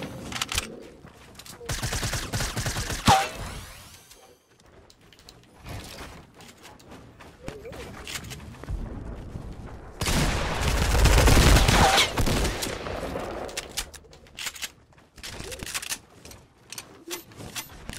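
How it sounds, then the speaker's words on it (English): Gunfire in a Fortnite-style squads video game with a hunter rifle, scattered shots and bursts of varying loudness, some close and some distant, with a dense volley in the middle. "Is that a hunter rifle?"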